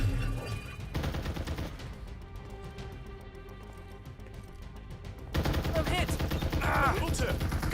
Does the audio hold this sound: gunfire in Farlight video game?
yes